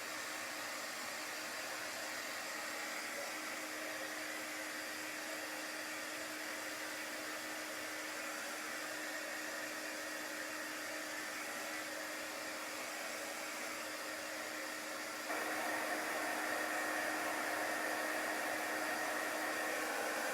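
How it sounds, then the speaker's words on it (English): A small embossing heat gun for craft work blows with a steady, even hiss, its airflow getting louder near the end, and no voices. "We've been all been talking about our embossing guns."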